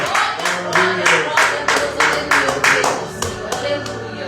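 Church congregation at a Wednesday worship service in Belo Horizonte, Brazil, clapping in a steady rhythmic beat of loud, evenly spaced claps, with a sustained tone and murmuring underneath.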